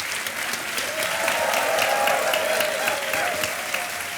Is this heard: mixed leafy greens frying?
no